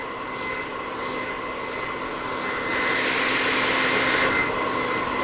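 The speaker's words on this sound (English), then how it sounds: "So be mindful when you're blow drying." A hair blow dryer blowing on relaxed hair held at an angle, a steady close whooshing roar that swells slightly louder partway through.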